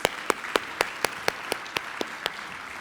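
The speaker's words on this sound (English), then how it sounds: "Let's give them both a round of applause." Applause at an inventors hall of fame ceremony honoring two guests, a broad wash of crowd clapping punctuated by a loud, evenly spaced rhythmic clap from someone nearby.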